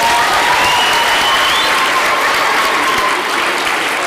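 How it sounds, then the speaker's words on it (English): Loud, dense applause from an audience at a school debate event in the UK, a steady wash of clapping with no break and no talk over it. "Give them a round of applause."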